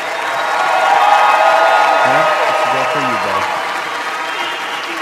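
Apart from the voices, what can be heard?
applause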